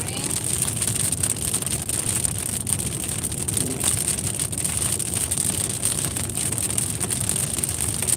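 Heavy storm rain in Iowa, a dense, constant roar of downpour drumming on a surface nearby, loud and unbroken, with a faint background hiss and no talking.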